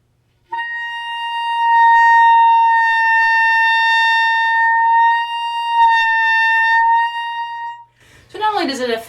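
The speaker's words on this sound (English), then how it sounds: "so this is representing my tongue while I'm playing high C, and you'll hear a radical difference in tone" A clarinet holds a high C as one loud, steady, sustained tone for about seven seconds. A brief stretch of talking follows.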